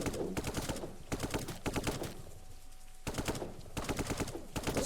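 Turrets in Brick Rigs fire at zombies in steady, rapid-fire bursts, a fairly quiet machine-gun rattle repeating in clusters with short pauses between them.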